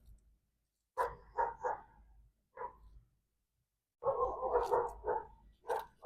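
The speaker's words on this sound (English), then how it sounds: "Sorry for the barking." Dogs bark in short bursts of a few barks each, separated by pauses, with a busier cluster of overlapping barks toward the end.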